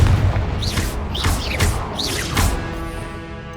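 Repeated Confringo fire-spell blasts in Hogwarts Legacy, a series of booming impacts about every 0.7 seconds with whooshing sweeps between them, loud and close over a dense game soundscape.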